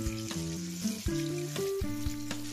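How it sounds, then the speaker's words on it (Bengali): Lentil cakes (dhoka) frying in hot oil as they are flipped over, a soft steady sizzle running underneath louder tonal music throughout. "একদিক পুরোপুরি ভাজা হয়ে গেছে লাল হয়ে, এবারে আমি উল্টে দেব।"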